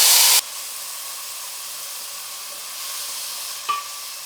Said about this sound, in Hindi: अब इसमें हम चॉप की हुई प्याज डाल देंगे